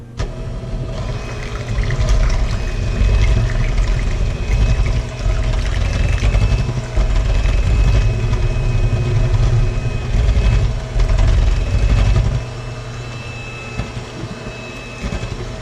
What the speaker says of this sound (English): you're going to need your hand mixer or whatever kind of mixer you use. Get it started. It's going to be a little loud